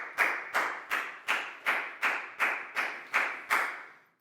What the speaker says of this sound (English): a big round of applause for Chu, please, guys.